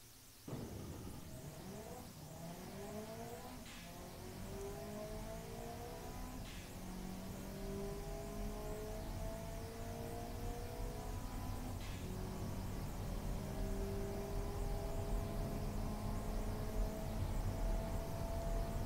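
A video-game car engine revving up through its gears on a long acceleration test track run in Automation, rising pitch sweeps repeating with each shift, steady and loud with no talking.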